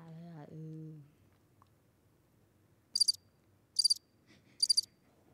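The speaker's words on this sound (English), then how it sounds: "I'm fine with the crickets." Crickets chirp in three short, evenly spaced bursts of rapid high trills, fairly near against a quiet background, following a brief voice at the start.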